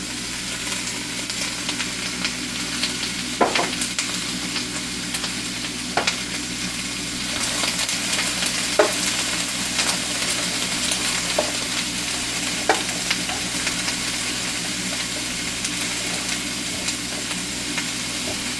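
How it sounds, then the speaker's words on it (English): Ginger beef frying in a pan, a steady broadband sizzle running throughout with occasional sharper crackles and pops, fairly loud and close with no talking. "So we're going to let this cook for a few minutes"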